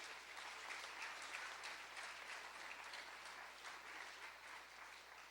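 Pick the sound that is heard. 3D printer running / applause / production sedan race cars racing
applause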